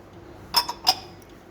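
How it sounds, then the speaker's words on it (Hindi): A spoon clinks against a pot while yogurt and ginger-garlic paste are mixed for Kashmiri chicken curry. Two or three light metallic taps sound close together, then fall quiet. "ये दही चला गया, इसको हम अच्छी तरह से मिक्स करेंगे"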